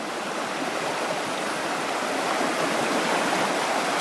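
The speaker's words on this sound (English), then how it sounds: "This is where the spring actually empties into Lake of the Ozarks," A spring-fed stream pours into Lake of the Ozarks in a steady, full rush of flowing water, constant and fairly loud with no voices over it.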